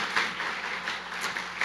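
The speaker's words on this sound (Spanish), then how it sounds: "Denle un aplauso al Señor" Congregation clapping in a Spanish-language church service, a brief dense burst of hand applause that fills the room evenly, with no voices over it.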